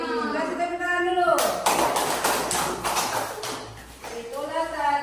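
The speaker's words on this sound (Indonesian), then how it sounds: "Kasih tepuk tangan dulu." A third-grade class of children claps together in a quick, dense burst lasting about two and a half seconds, with a teacher's voice talking just before and after it.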